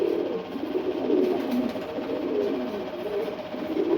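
Pigeons, a khaki male and female pair, cooing close by in soft, rolling, repeated calls that run continuously, with no voices.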